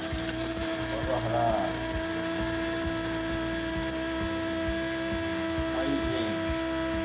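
An electric coffee grinder grinds coffee beans with a steady, loud motor whine and a rough rattling texture that runs throughout, with a voice talking over it.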